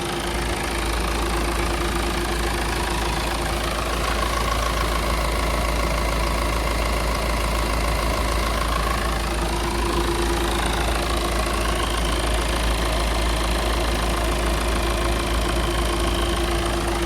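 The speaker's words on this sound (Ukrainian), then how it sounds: "ось так працює двигун, все рівномірно, муркоче" A 2016 Peugeot 508 GT 2.0 HDi diesel engine with automatic transmission idling steadily, a low even rumble with a constant hum and faint rhythmic knocking, close by and uninterrupted.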